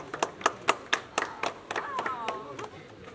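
Hands clap in a steady, even rhythm of about four per second at a media event for an actress at a Coimbatore coffee shop, close and crisp, with a voice briefly speaking over the later claps.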